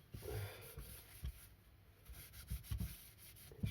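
Tissue soaked in carb cleaner rubbing over the crankcase halves of a Stihl TS350 Super cut-off saw, giving soft, uneven scrubbing and wiping strokes close by, with scattered louder swipes and light handling knocks.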